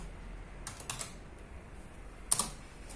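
A few soft computer keyboard key clicks while a search is typed, followed by a sharper, louder keystroke near the end, close by in a quiet room.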